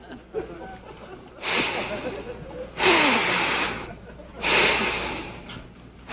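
A person gasps and breathes heavily after holding their breath, with three loud, breathy inhale and exhale bursts separated by quieter pauses, close to the listener.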